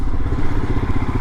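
Royal Enfield Himalayan motorcycle engine on a road trip, with slight throttle lag: a close, loud, steady rhythmic thumping chug with no pauses.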